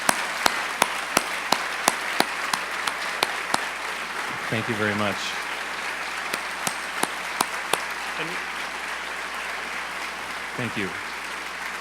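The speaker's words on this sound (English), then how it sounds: "Can we have a round of applause for Daniel," Audience at a book festival applauds a headline speaker, scattered claps giving way to sustained clapping, while a few brief words of thanks are spoken over it.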